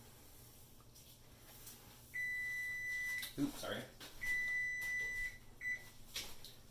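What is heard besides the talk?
timer beeping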